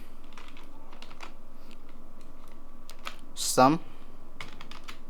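Keystrokes on a computer keyboard while printf code is entered for a C arithmetic-operators program, sparse light clicks spread across the clip with a brief louder burst near the middle and a short spoken word over it.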